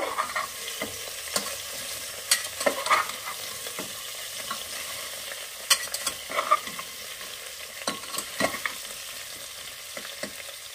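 Chopped eggplant and tomato stirred in a frying pan for sambar dal, with a soft steady sizzle broken by repeated scraping and tapping strokes of a spoon, irregular and close, no talking.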